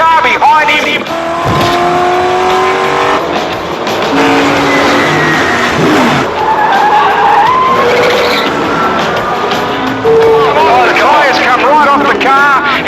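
A Commodore and Ford race car skid and screech on a pit straight after one is hit from behind, engines roaring loudly, with tyre squeal over the din and a commentator talking throughout.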